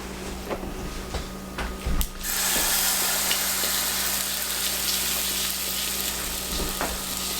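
Food sizzling hard in a smoking-hot pan, a steady loud frying hiss that flares up after a couple of seconds of lighter crackle and keeps going with small pops, no talking.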